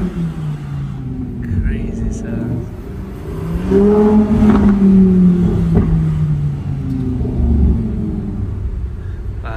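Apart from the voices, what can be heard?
2024 Lamborghini Huracan Tecnica engine accelerating loudly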